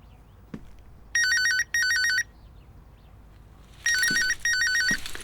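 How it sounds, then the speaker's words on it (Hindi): A telephone rings in two pairs of electronic trills separated by a pause, with a few faint knocks and quiet room noise between them. "इसका फोन बज रहा है।"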